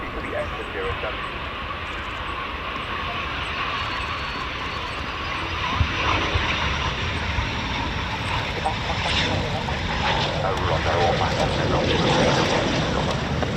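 A Eurofighter Typhoon FGR4 taxiing at RAF Coningsby gives a steady, broad engine roar that swells slightly toward the end, with voices heard over it.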